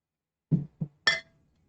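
A glass piece being tightened back down on a glass device clinks three times in quick succession, close and distinct, the last clink brightest.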